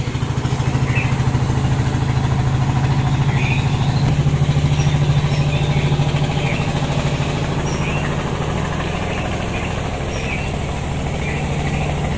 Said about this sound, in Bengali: অনেক সুন্দর একটা নৌকা যাইতেছে, এই নৌকা দিয়ে ধান নিয়ে যে বাজারে বিক্রি করে।